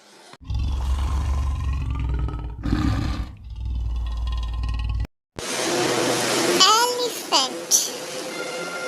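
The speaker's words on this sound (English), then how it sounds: "leopard." A wild leopard growls and roars in deep, heavy bursts, followed after a short gap by a brighter, noisier stretch with rising and falling yowling calls, close and loud.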